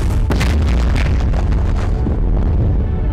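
Explosions from the war film Dunkirk on the beach, a loud, dense, rumbling blast with crackling debris and sharp bursts, the roar gradually dulling over a few seconds.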